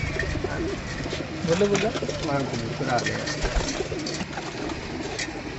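Pigeons coo repeatedly in a rooftop loft in Amritsar, soft throaty calls close by, while someone speaks over them throughout.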